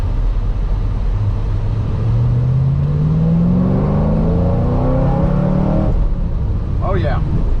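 A twin screw supercharged 2010 Chevrolet Camaro 2SS with a manual gearbox accelerates hard, engine note climbing steadily in a loud rising drone before a shift break, with a brief voice over the engine near the end.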